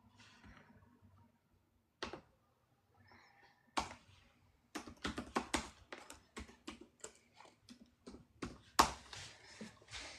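Someone types hard on a computer keyboard, with scattered clacks that build into rapid, forceful bursts of keystrokes, close and clear with no talking.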